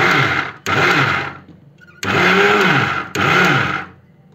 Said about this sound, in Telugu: ఈ విధంగా నెమ్మదిగా వేసుకొని తర్వాత స్పీడ్ గా వేసుకోవాలి మిక్సీ